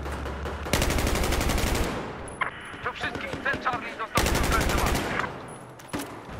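HK416 assault rifle fire in Battlefield 4, two long automatic bursts of rapid, loud shots, with someone talking in the pause between them.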